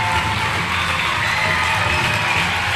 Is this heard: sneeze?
no